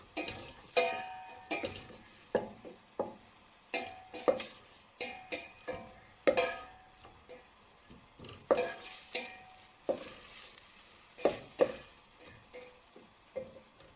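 Onions and garlic sauté in a pan with a soft, steady sizzle, punctuated by frequent sharp scrapes and clicks of a utensil stirring against the pan, heard close and without talk.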